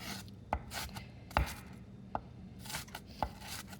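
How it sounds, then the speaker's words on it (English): A knife chops onions on a cutting board while making lasagna soup: a handful of sharp, irregular chops close by, with quiet gaps between them and no talking. "Here lately, I'm crying every onion I cut"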